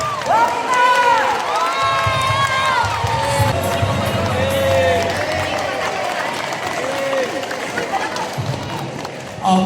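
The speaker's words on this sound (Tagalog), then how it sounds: "Okay, tama na yung palakpak." A crowd cheering and clapping as the governor of Misamis Occidental is welcomed at a chess tournament event, with excited shouts and voices over sustained applause, loud and lively throughout.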